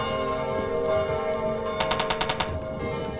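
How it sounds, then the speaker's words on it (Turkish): Bells ring in the video game Kingdom, a quick run of bright metallic strikes over a steady musical background. "15. gün ve çanlar çaldı."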